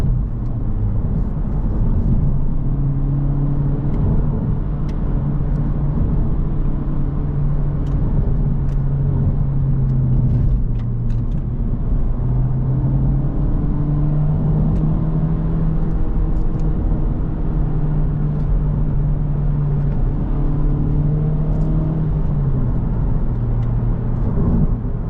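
A Honda Civic Type R FL5 drives along a bumpy backroad, its engine a steady, close, low droning hum from inside the cabin that rises and falls slightly with throttle for the whole stretch, with no talking.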